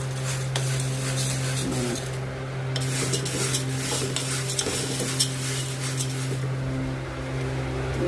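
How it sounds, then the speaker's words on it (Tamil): Sprouted grains, including samba wheat and black wheat, dry-roasting in a pan, with continuous scraping and rustling as they are stirred, plus a low steady hum beneath, close by with no talk. "அது இப்போ வறுத்துட்ருக்கோம். இது எல்லா தானியமும் முளை கட்டினது."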